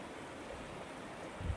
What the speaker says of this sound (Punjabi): ਇਧਰੋਂ ਸਾਰਾ ਪਾਣੀ ਆ ਰਿਹਾ